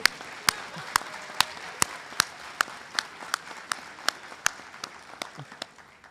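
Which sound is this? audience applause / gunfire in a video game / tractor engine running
audience applause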